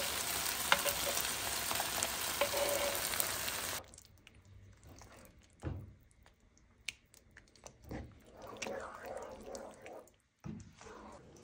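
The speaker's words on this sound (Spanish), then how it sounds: "Las carnitas ya están, pero si bien doraditas, están brincando de la emoción porque les voy a aventar mole" Carnitas frying in a pan with mole sauce tossed in, a loud dense sizzle for the first four seconds, then quieter intermittent sizzling, stirring scrapes and drips.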